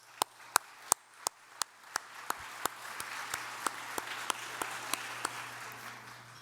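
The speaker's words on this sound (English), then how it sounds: "A round of applause." At a panel event, a round of applause starts with crisp, evenly spaced claps close by, then softer crowd clapping fills in underneath at a modest, fairly faint level.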